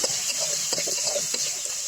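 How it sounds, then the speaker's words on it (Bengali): Potatoes frying with turmeric and salt in a little oil in a pan, a soft continuous sizzle with light stirring scrapes, steady and close. "সুন্দর আমি আলুটাকে ভেজে নিলাম"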